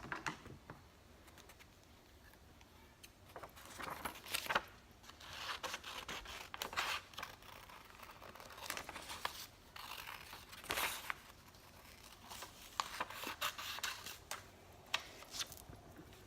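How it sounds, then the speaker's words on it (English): Scissors cut a paper logo out of paper, giving faint intermittent snips and crisp paper rustles in irregular bursts against a quiet room, with no talking. "I cut it out with the scissors."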